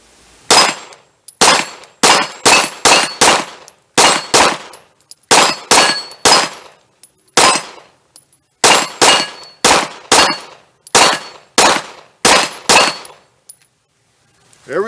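A White River SPP pistol fires in a long string of sharp, loud, evenly spaced shots, roughly two dozen over fifteen seconds, arriving in quick bursts with short pauses between, each crack ringing with a metallic clang.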